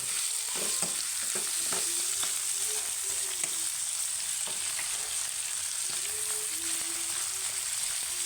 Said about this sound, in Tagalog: gisa-gisahin muna natin yung kamatis guys tsaka carrot